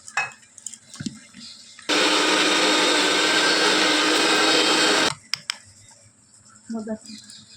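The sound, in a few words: grinder blending melon seeds, cashews, garam masala, cumin into paste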